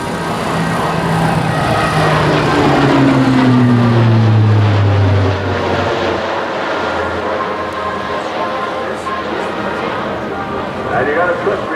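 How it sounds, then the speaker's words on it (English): A Lockheed C-130J Hercules turboprop makes a high-speed pass low over the runway at an airshow, its loud propeller roar sweeping down in pitch as it passes, then a fading rumble while a commentator talks. "high-speed pass right down over the runway here."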